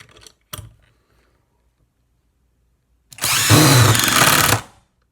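A single-speed Porter Cable impact driver driving a screw, heard as one loud, sustained burst of rattling hammering lasting about a second and a half after two brief knocks and a pause.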